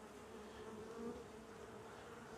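Honey bees buzz steadily at a nuc hive holding a newly added F1 Buckfast queen, a continuous close, even drone of many wings with a brief swell in the middle and no talk.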